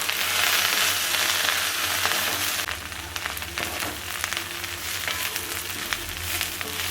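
Fresh curry leaves fry in a pan for a spicy curry leaf kulambu, giving a steady, close sizzle with crackling pops that grow busier partway through, with no voices.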